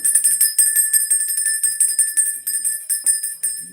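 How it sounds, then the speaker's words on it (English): A small bell jingles in a fast, steady rhythm, each bright tinkling strike repeating closely after the last, heard alone. "Jojo, where's my bell?"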